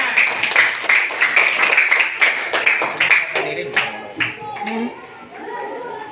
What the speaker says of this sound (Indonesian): Ya, silakan kelompok 8. Kasih tepuk tangan.